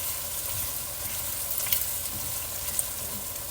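Minced garlic stirred into sizzling onions in a soup pot, a steady close frying hiss with faint scrapes of the spoon running throughout, no voices.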